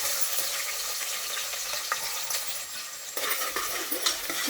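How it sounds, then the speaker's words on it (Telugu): Onions frying in oil in a pressure cooker with cloves, cinnamon and cardamom, giving a steady sizzle under intermittent stirring scrapes and light metallic clinks, nearby and moderately loud. "ఉల్లిగడ్డ ఫ్రై అయింది కదా"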